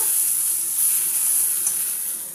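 Vegetables fry in a pan with a close, steady hissing sizzle that fades slightly toward the end, with no voices over it.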